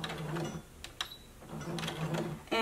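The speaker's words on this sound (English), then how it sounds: "you want to stitch about 1/4 of an inch away from the seam. So begin sewing," A sewing machine stitches a dress waistband about a quarter inch from the seam. Its close, mechanical rattling runs in two short bursts separated by a brief pause.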